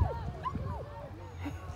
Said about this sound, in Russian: Сейчас еще собаки давай за тобой побегут.